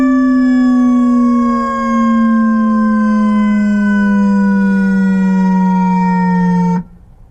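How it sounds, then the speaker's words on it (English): A Whelen howler siren on a 2017 Ford Explorer Interceptor fire vehicle gives a loud, steady low tone that drifts slowly downward for several seconds, then cuts off abruptly. "we have also equipped it with a Whelen howler"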